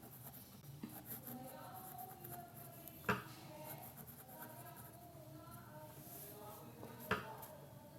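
Marker or chalk scratches steadily across a classroom board during a Class 5 fraction lesson, with two sharper taps against the surface and a faint voice murmuring underneath.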